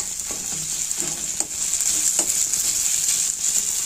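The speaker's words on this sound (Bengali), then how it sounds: "যত ভেজিটেবল ভাজা ছিল ফ্রাই করলাম, ডিমটা ফ্রাই করলাম" Vegetables and an egg fry in a pan with a loud, steady sizzle and occasional stirring scrapes, close up and without talk.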